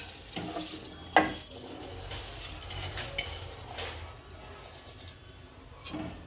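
Rice and lentils for Kathiawadi khichdi tipped into a pressure cooker, a sharp clink at the start and scattered soft rattles and scrapes over a low steady hiss, close and fairly quiet.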